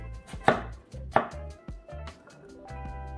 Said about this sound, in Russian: Очищенную тыкву нарезаем кубиками средней величины.